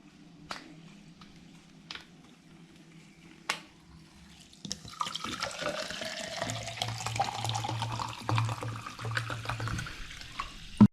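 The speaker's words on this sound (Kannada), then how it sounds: "ಈಗ ಸೋಡಾ ಹಾಕ್ತಾ ಇದ್ದೀನಿ." Soda pours into a glass for a Kerala-style fuljar soda, a few sharp taps and clinks first, then a steady fizzing, splashing gush of liquid filling the glass and building toward the end.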